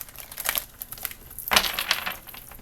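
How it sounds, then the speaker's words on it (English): Tarot cards being shuffled by hand, a short close run of crisp papery riffles and taps that ends in a louder burst of card flutter. "I'm going to shuffle 3 times for Taurus."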